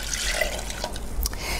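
Distilled white vinegar pours into a saucepan for making refrigerator pickles, a short, steady splashing trickle heard close up and alone with no talk.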